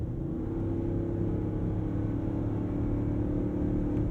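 A 2021 Ford F-250 Super Duty Tremor with a 7.3L V8 accelerates hard, heard from inside the cab as a steady deep engine drone with a strong low rumble throughout.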